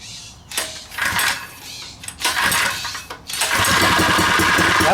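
A new Predator 79cc small engine is pulled several times and sputters before catching, then settles into a loud, steady, close buzzing run.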